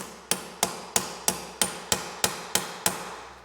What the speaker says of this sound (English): I'm just gonna try and hammer down to close the tuck on the edge.